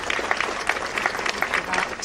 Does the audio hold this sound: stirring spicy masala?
no